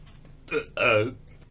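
A person burps on request during a prank radio call: two loud, close, throaty bursts, the second longer and more drawn out.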